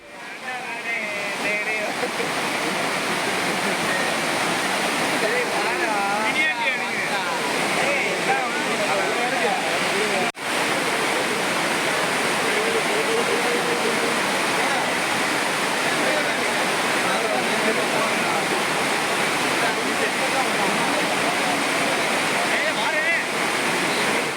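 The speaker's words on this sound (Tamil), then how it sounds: "ஞாயிறு விடுமுறையை முன்னிட்டு குற்றால அருவிகளில் சுற்றுலா பயணிகள் அதிக அளவில் குவிந்து உற்சாக குளியல் போட்டு வருகின்றனர்" Courtallam waterfalls roar steadily as crowds of tourists bathe beneath them, a loud, unbroken rush of falling water with indistinct voices buried in the spray.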